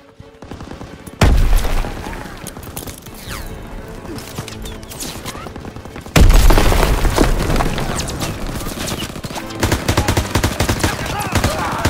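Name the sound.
machine gun fire in video game Call of Duty WWII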